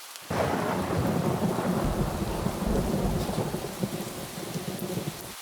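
Steady heavy rain with rolling thunder bursting in after a brief silent start, a dense continuous downpour rumbling loud and full throughout, no voices.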